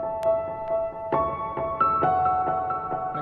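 Native Instruments The Giant piano played dry with reverb and delay but no OTT compression: sustained chords with soft repeated note attacks, moderately loud and alone.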